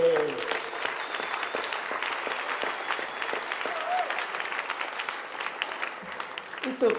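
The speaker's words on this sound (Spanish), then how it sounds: "Vamos a darles un aplauso" Audience at an inaugural forum panel applauds continuously at moderate volume, a broad wash of many hands clapping with no pause throughout.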